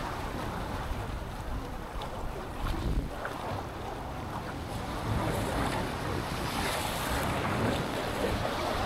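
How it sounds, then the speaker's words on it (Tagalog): Strong wind buffets the microphone at a seashore during shore casting with lures, with steady roar of wind and surf and no talk. "Malakas yung hangin mga idol."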